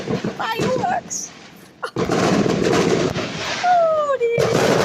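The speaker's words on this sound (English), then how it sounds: "Oh, fireworks!" Fireworks bang at New Year in a loud, irregular volley of sharp blasts, a brief lull near the middle, then more bursts with high whistling rockets, while excited voices talk over them.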